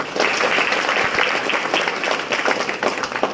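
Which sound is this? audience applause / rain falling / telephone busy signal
audience applause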